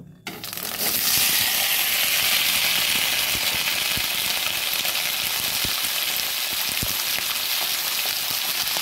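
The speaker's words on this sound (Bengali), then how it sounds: "এবার দিয়ে দেব মটরশুঁটি আর আলুটা ভাজার জন্য" Green peas and potatoes hitting hot mustard oil in a kadai for ghugni, bursting into a loud, dense sizzle that holds steady throughout with occasional crackles, close and with no voices.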